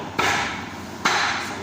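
Two heavy cleaver chops into fresh beef ribs by a butcher cutting meat by hand, each a sharp close thud with a brief ringing tail, spaced about a second apart.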